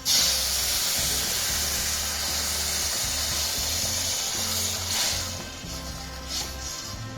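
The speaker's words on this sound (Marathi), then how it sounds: "आता हे बोंबील शिजासाठी त्याच्यात पाणी ओतूया।" Water poured onto dried Bombay duck in a hot pan with coconut, giving a loud, steady hissing sizzle with low rumbling underneath, easing slightly toward the end.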